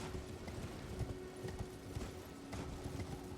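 A horse gallops in the Elden Ring video game, its hoofbeats a quick, rhythmic clip-clop over a soft background bed at low volume.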